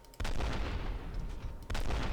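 Two sharp, loud gunshots from a weapon in the video game F.E.A.R., about a second and a half apart, each with a short rumbling tail.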